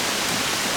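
Heavy rain pours down around an outdoor garden kitchen near a bamboo grove, a dense, loud, steady hiss that fills the whole moment without a break.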